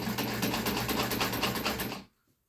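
A heavy-duty sewing machine stitches thick webbing in a fast, steady run of needle strokes, close and loud, then stops abruptly.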